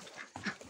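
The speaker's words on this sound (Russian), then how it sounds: "Вот эти кряколы." Ducks in a freshly built outdoor pen, faint brief quacking over a soft, noisy background.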